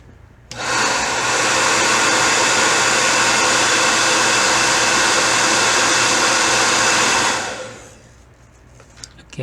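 A hair dryer blows loudly and steadily for several seconds, close up, softening a thick leather watch strap, then switches off and spins down.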